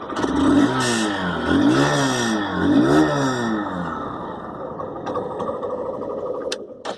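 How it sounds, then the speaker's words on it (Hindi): A Hero Glamour 125cc motorcycle is revved three times in quick succession at close range, each rising and falling whine clearly audible, before the engine drops back to a steady idle. "एग्जॉस्ट साउंड एक बार मैं आपको सुना देना चाहूँगा।"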